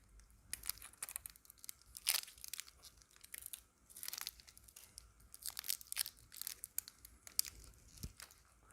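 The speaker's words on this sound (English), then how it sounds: "The excessive foil is cut away." Excess aluminium foil shielding on a SUBCAB cable is cut and torn away, giving quiet, close, irregular crinkling and tearing bursts with no talk.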